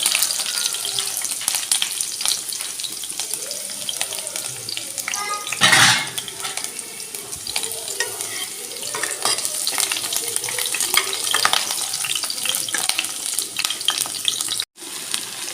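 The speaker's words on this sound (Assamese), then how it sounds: "পিঁয়াজ আৰু জলকীয়া দি দিছোঁ" Chopped onions and green chillies frying in a pan, a loud continuous sizzle and hiss with a brief louder burst partway through, ending in a short stirring scrape.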